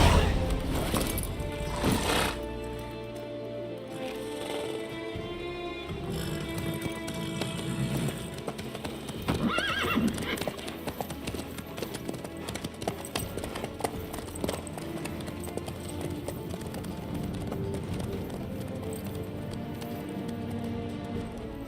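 Horse hooves clop steadily through The Witcher 3 video game, a continuous galloping patter that runs throughout under music, close and moderately loud.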